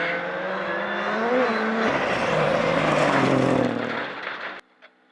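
An R5 rally car drives fast, its engine howling loud and close as revs rise and shift, then the sound drops off abruptly near the end.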